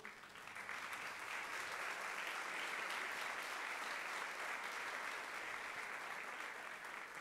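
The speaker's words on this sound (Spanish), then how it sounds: "Maestro Sergio Kovacevic, el aplauso para usted." An audience at an award ceremony applauds for several seconds, a steady, dense wash of clapping heard from some distance at a fairly faint level, with no talk over it.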